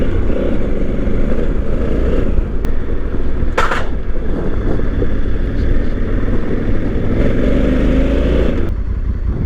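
The rear tire of a 2020 Honda Africa Twin motorcycle spins and churns through gravel at a wildlife refuge, a loud, continuous engine roar mixed with grinding gravel and buffeting wind, close and steady throughout.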